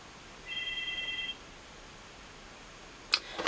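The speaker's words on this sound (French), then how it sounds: "Ah le téléphone sonne." A telephone gives one short electronic trilling ring in an otherwise quiet room, followed by a couple of sharp clicks near the end.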